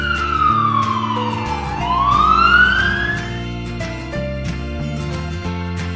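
A preschool toy police car on a toy train set sounds a loud electronic siren wail that sweeps down and then back up, over a plinky backing melody that carries on afterward.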